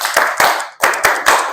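A school class clapping in unison, sharp group claps in short rhythmic bunches, loud and close with brief gaps between the beats.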